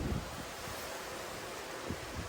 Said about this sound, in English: then water flow falls down to the pool